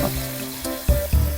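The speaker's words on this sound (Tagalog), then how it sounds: "Lalagay ko na po yung kanyang sarsa." Adobo sauce is poured back into a pan of squid adobo, giving a brief splashing trickle of liquid that comes in short bursts, close and fairly loud.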